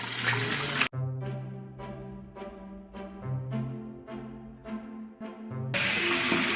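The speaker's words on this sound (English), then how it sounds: "Wash your hands." Water from a household tap runs steadily into a sink while hands are washed under it, a close, continuous rush with a brief break, and the flow grows louder near the end.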